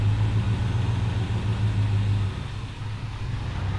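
Tow truck engine running steadily while reverse and forward gears are tested, a loud low idle hum that drops slightly in level partway through, no talk.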